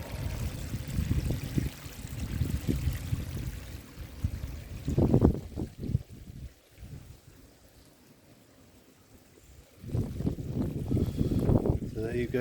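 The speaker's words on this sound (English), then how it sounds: "I do love the sound of running water" Running water at St Augustine's Well in Cerne Abbas trickles and flows steadily close by, with louder bursts at the start and again near the end, and quieter stretches between them.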